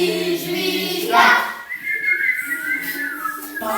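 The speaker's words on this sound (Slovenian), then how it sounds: "gre planine in veselo si žvižga" A person whistles a cheerful folk tune, loud and close, with a bright rising phrase in the middle and steady melodic tones that continue to the end.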